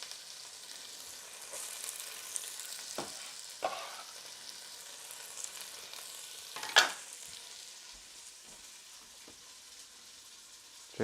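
Chicken for chicken tinga sautéing in a pan, a soft steady sizzle running throughout with a few sharper pops and spatters, one louder burst midway, no talk.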